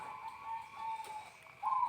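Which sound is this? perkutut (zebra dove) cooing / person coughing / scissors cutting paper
perkutut (zebra dove) cooing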